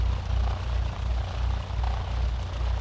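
A Cessna 152 engine idles steadily while taxiing in a flight simulator game, a continuous low propeller drone with a faint rhythmic pulsing throughout.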